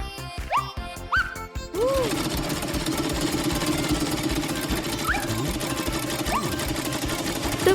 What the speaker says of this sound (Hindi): मेरी सिलाई मशीन हमेशा मेरे काम आती है। मैं एक लिबास सिलती हूँ।